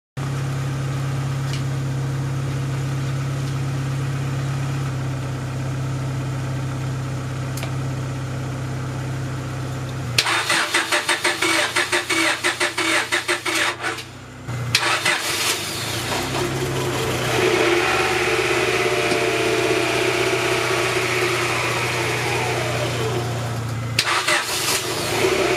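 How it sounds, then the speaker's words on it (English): A jump-started OBD2 Honda car engine, just fitted with Hondata tuning after a misfire, cranks and catches midway, then settles into a steady idle with a few light revs, close and fairly loud after a quieter idling stretch. "So the car is running"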